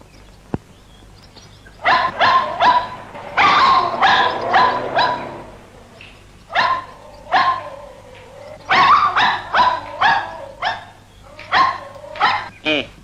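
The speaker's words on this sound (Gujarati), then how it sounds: "મોતી, એ મોતી, એ મોતી, ચૂપ રે." A dog barks loudly and close by in quick, repeated bursts, with brief whimpering yips between the volleys. The barking continues in clusters throughout.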